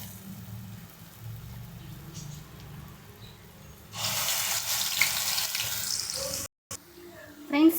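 Medhu vadai batter dropped into hot oil at a tea stall sets off a loud, close sizzle and bubbling that swells suddenly partway through and then keeps crackling.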